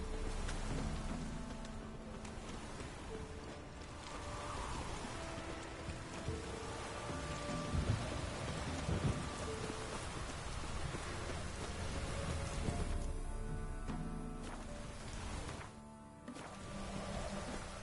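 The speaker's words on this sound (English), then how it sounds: "A storm, damn it." A thunderstorm in the video game The Witcher 3 brings steady rain drumming on surfaces, with low rumbles of thunder rolling underneath at moderate volume and no one speaking.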